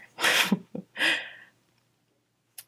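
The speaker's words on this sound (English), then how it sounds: "I've been sneezing so much" Two loud, close sneezes in quick succession, the second slightly softer, followed by near silence with a faint click at the end.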